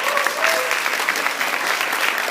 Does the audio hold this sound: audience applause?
yes